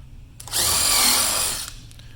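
Power drill boring pilot holes through front trim into the sides of a wooden case, one steady whining burst of about a second, close and loud, starting and stopping abruptly.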